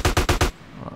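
Four loud, evenly spaced bursts of automatic gunfire from a firearm in Grand Theft Auto: San Andreas, each a heavy, booming volley, followed by quiet tail and faint room noise.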